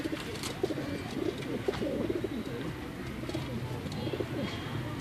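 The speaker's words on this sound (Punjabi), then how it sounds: "ਇਹ ਕਾਲੇ ਪੱਲਿਆਂ ਵਾਲੇ ਕਬੂਤਰ ਨੇ 10 ਨੰਬਰ" Black-feathered pigeons coo steadily and fairly faintly, with soft repeated calls over a constant outdoor background hum and no speech.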